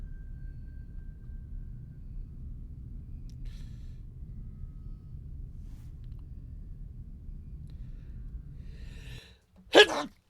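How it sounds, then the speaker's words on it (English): A single sharp sneeze bursts out near the end, loud and close, after a long stretch of low, quiet rumbling room noise. "I felt a sneeze. I felt it coming."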